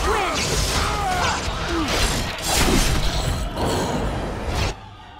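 An Arcane Bolt spell cast at a skeleton in a fantasy video game: a loud, dense burst of magical whooshing and crashing effects that churns for several seconds and then cuts off abruptly.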